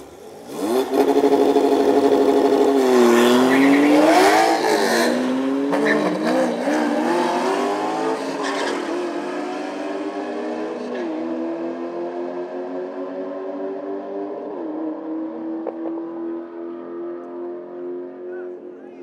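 A Camaro Z28 and a Porsche Turbo S rev hard at the start line of a race track during a supercar track day, loud engine roars climbing and falling, then fading as the cars pull away.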